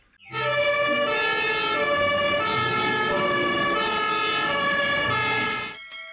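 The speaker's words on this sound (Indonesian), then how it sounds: "Mobil pemadam kebakaran." A toy fire truck siren wails in a steady electronic tone, loud and close, cycling its pitch for several seconds before cutting off.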